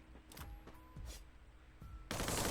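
Gunfire in the Free Fire mobile game, several sharp close shots spaced through the clip, ending in a loud burst of dense, noisy firing.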